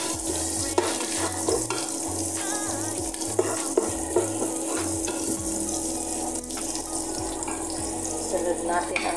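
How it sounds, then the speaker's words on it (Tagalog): Food sautés in a pan with a continuous close sizzle and crackle, joined by scraping and occasional clanks of a utensil stirring, loud and busy over a low steady hum. "Sautay lang natin hanggang maglabas yung kanyang aromatic smell para mabango ng ating niluluto"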